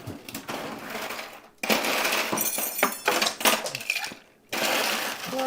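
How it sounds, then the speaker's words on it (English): Cocktail stirred with ice in a crystal mixing glass, giving bursts of bright clinking and rattling close by, with short pauses between rounds of stirring. "we're mixing it in our crystal here"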